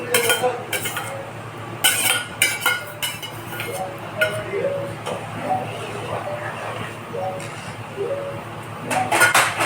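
A spoon stirs milk with cardamom powder in a pot while making kalakand, giving repeated scraping and light metallic clinks against the pan in an irregular rhythm, close and moderately loud.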